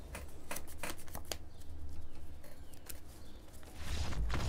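Cards are shuffled in a short crisp flurry, a sequence of quick riffling taps, in the MTG Arena digital card game, heard close and clear over a faint background hum.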